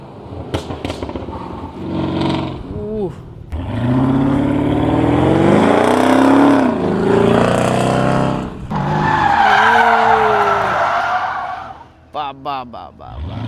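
A car is driven hard, engine roaring and tires screeching in long sustained skids that rise and fall, loud and close, with voices shouting over it.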